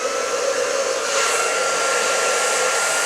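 A hair dryer blows steadily and close while hair is blow-dried with a brush, a continuous loud whooshing whir with a slight shift in airflow partway through.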